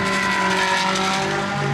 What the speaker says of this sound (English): a bit of a rattling noise from that Ferrari, so it's got something dragging on the ground